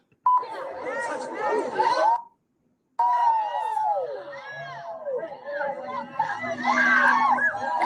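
People screaming and shouting in a played video clip, a dense chaotic crowd of raised voices that stops briefly, then resumes with more yelling and chatter, loud and close throughout.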